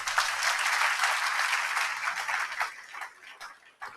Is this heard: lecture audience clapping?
yes